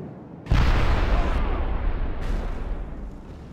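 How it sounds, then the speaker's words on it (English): Serpentine artillery fires in an Italian Wars battle game, a sudden heavy boom that settles into a long rumbling roar with a second swell of noise partway through, loud and without voices. "So the artillery has opened the battle."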